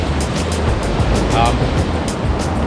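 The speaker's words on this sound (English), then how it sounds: "We got some waves today," Ocean surf breaks along a Bali shore, a loud, continuous rushing wash with a steady low rumble beneath and a faint motor-like whine briefly rising over it.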